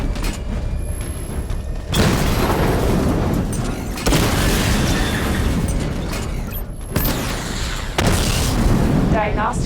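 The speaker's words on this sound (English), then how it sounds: "Destroy targets to charge up weapon energy and activate missile barrage." Missile barrage explosions in Batman: Arkham Knight, several heavy booms arriving in separate bursts about two seconds apart, loud and rumbling over a constant mechanical drone.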